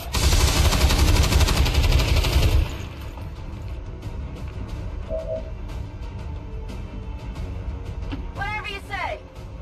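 Gunner firing a weapon in XCOM 2, a loud dense burst of automatic fire for a couple of seconds, then quieter game sounds, a few clicks and a short rising electronic chirp, with talk over it.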